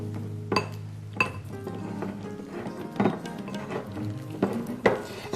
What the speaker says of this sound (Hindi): अब अच्छी तरह से मिक्स किया जाए।